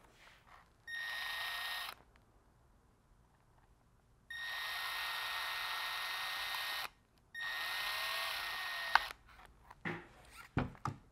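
A small drill bit whirs in three steady runs while enlarging a hole in a carbon control rod, with a faint, even tone and brief pauses between runs, then a few light clicks and handling noises.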